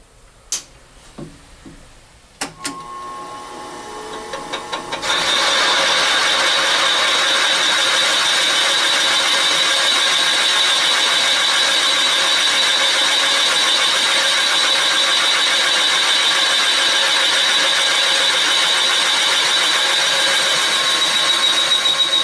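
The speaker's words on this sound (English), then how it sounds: "we're going to set our depth, and we can go ahead and machine the counter bore" Machining a counterbore in a Ford 390 cylinder head: a few clicks and knocks of setup, then a steady, loud, continuous cutting whine with a high tonal ring that runs unbroken to the end.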